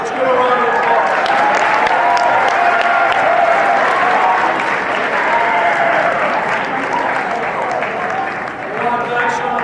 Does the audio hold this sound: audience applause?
yes